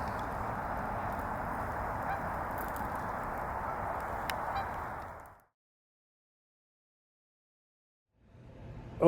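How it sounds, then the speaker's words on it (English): Geese are honking out on open water in Washington, D.C. The honking is a dense, continuous clamor heard from a distance for several seconds. It drops to silence, then faintly resumes at the end. "we can see all these geese out in the water"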